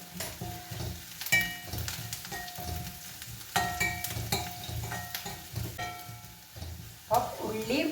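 Vegetables and seasoning sautéing in a pan on a home stove, a steady close sizzle broken by repeated stirring scrapes, before sprouted green gram goes in; a voice speaks now and then over the cooking.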